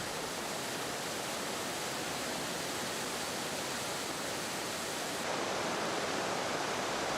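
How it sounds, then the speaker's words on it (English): The small waterfall at Emerald Pool in Central America, about 6 meters high: a constant, dense hiss of falling water, steady and close throughout. "Emerald Pool is a small waterfall, 6 meters high."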